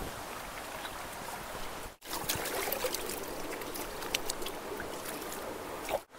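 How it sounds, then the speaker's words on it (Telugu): Rice soaking in water for chicken pulao at a picnic near a waterfall, with continuous splashing and trickling water close by, steady and fairly loud throughout, broken by two brief pauses. "దీన్ని ముందుగా కడిగి నానబెట్టుకుందాం."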